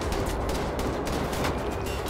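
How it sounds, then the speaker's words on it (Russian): Gunfire and an exploding barrel in the shooter game Wolfenstein: The Old Blood make a loud, dense roar of overlapping shots and blast noise that runs continuously without pause. "А чё тут бочка-то не взрывается? А, сейчас взорвется."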